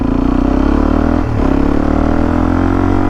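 A Suzuki DRZ motorcycle engine running steadily at speed on a road, a loud, continuous close drone with a brief dip and recovery midway, no talking.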